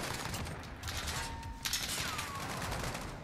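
Sustained gunfire in the Modern Warfare shooter, a dense stream of overlapping shots and mechanical clatter that runs through the whole moment with no break.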